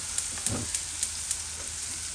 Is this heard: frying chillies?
yes